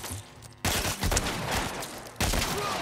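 Shotgun blasts in the video game The Last of Us come as loud, booming reports, one near the start and another near the end, with heavy sound in between.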